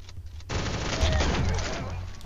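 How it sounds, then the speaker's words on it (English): Rapid gunfire bursts in the video game Shell Shockers, a dense crackling fusillade of shots that starts after a quiet moment and rattles on steadily to the end. "Shoot at that."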